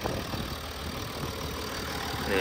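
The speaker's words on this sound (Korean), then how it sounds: "디젤이라 엔진룸을 열면 조금 소음은 있는 편입니다." Open engine bay of a Genesis GV80 3.0 AWD diesel, the engine idling with a steady, close, unbroken drone and a faint diesel clatter running under it, with no voices.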